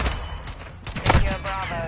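Dense automatic gunfire and explosive blasts from an airstrike in a video game, loud and close, with a voice speaking over the rapid bursts.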